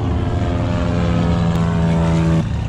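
A small propeller plane at Moruya Airport drones loud and close with a steady engine hum and prop buzz, with no talk, and the pitch shifts slightly near the end.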